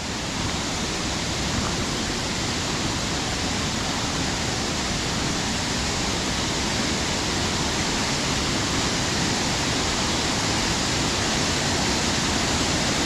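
Steady roaring of the main Harmby waterfall crashing onto rocks below fills the air, close and loud, an unbroken hiss and rumble of falling water lasting throughout with nobody talking.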